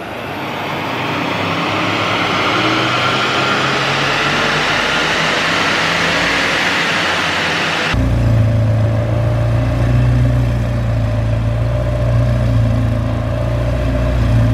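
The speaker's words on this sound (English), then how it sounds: "Doing some dyno runs in an RS6." An Audi RS6 on a dyno roars at sustained high revs, a dense loud engine drone that shifts abruptly to a lower, throbbing idle-like hum partway through, with no voices.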